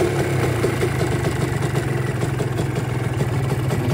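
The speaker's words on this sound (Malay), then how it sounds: "bunyi enjin" A car engine idling steadily right after a coolant refill, a continuous low rumble with a regular pulsing throb, close and fairly loud, no voices.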